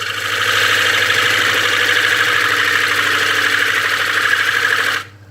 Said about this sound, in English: You can use a chisel like that. You can go forward or backward, using that on the bowl gouge as the cutting edge.